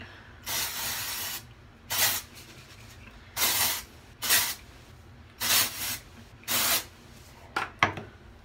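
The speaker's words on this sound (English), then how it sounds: "The dry shampoo. It's Refresh Plus Care Dove Hair Therapy." Dove Refresh Plus Care Hair Therapy dry shampoo sprayed from an aerosol can in six or seven short hissing bursts, each about half a second to a second long, close and fairly loud with brief quiet gaps between them.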